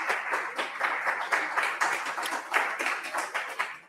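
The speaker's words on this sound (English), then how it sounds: "we want to give him another round of applause" An audience at a New York State community commission hearing on reparations gives Public Advocate Williams a round of applause, steady moderate clapping from a modest crowd with a slightly uneven rhythm.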